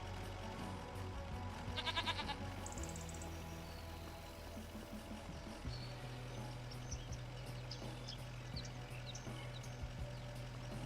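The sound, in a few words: goats bleating, from video game Farming Simulator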